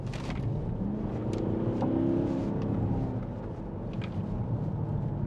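A 2016 Porsche Cayenne 4.2 TD V8 S in sport mode accelerating heard from inside the cabin: a steady, full low engine drone that rises gently in pitch and holds throughout, with no talk over it.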